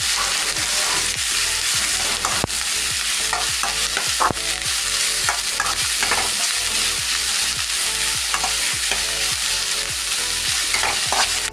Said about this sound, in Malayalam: വേപ്പില, ഇത് നന്നായിട്ട് വഴറ്റണം.